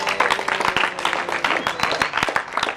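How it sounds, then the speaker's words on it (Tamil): Audience in a college auditorium clapping for themselves after answering a quiz question correctly, a dense burst of close, steady applause from many hands with a few scattered voices. "அதனால உங்களுக்கு நீங்களே கை தட்டிக்கோங்க."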